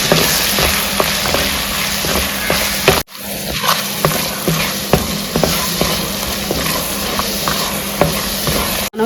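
Ginger garlic paste fries in a pan for pulao, giving a steady loud sizzle with repeated scraping clicks from stirring and one brief break in the middle.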